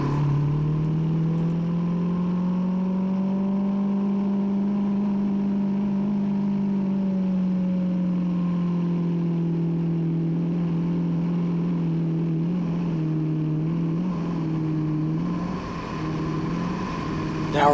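A car engine fitted with a Carter AFB carburetor held at wide open throttle, a loud steady roar with sustained harmonic drone that stays constant for most of the stretch before dipping slightly near the end.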